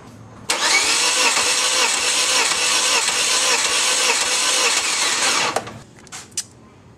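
A car engine cranks steadily on the starter for about five seconds during a wet compression test on cylinder four, a loud, even rhythmic churning that stops abruptly, followed by a few faint clicks.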